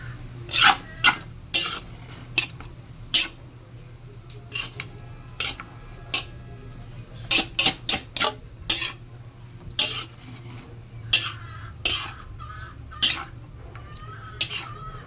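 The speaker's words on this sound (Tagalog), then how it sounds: "yung aking palabok na niluluto ay style luglog" Pancit palabok noodles cooked luglog style, dry, being stirred in a pot: sharp utensil scrapes and clinks come in irregular bursts over a steady low hum, close and fairly loud, with no talk.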